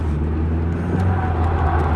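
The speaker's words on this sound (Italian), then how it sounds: "adesso io metto in evidenza il sottosterzo" A car during an understeer driving demonstration, its engine and road noise forming a steady, loud, close drone with no speech.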